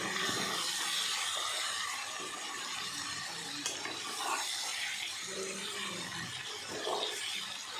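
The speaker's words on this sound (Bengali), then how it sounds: "আমি নাড়ছি তরকারিটা" A curry with onion, garlic, chilli and whole cumin simmers in a pan with a soft, fairly faint sizzle. Occasional scraping stirs rise above it.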